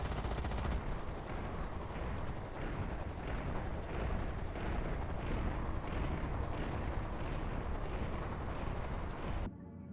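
Aircraft strafing runs in Carrier Command 2 produce sustained loud gunfire, a dense continuous rattle of rapid bursts with a regular pulsing rhythm, which cuts off abruptly near the end.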